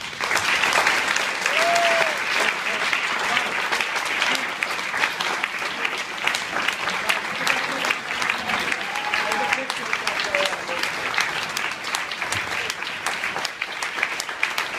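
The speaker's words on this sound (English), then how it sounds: "Let's give them a round of applause" A crowd at a pancreatic disease event claps steadily for the full stretch, a loud, even wash of applause with faint voices mixed underneath.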